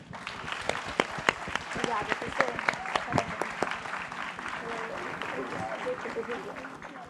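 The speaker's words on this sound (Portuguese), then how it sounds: "Uma salva de palmas para todos vocês." Audience applause at an agribusiness event, a dense steady wash of many hands clapping with a few sharp louder claps standing out, close and sustained throughout, with voices mixed into the crowd noise.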